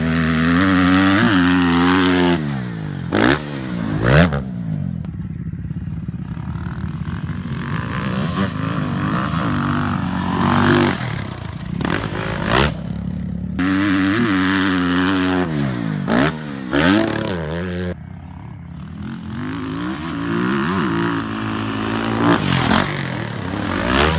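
A motorcycle engine revs hard and drops off repeatedly through a series of jumps, rising and falling roars close by with brief quieter gaps between each landing and throttle burst.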